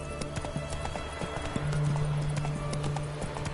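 Horse hooves clopping in a steady rhythm in The Witcher 3 on Death March difficulty, close and clear with a low tonal hum underneath and no talking.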